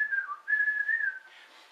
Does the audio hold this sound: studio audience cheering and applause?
no